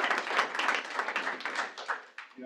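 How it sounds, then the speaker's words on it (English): A moderately sized audience at a stakeholder meeting claps steadily for Agent Appreciation Day, heard from a slight distance, with the applause thinning as it ends. "give yourselves a round of applause"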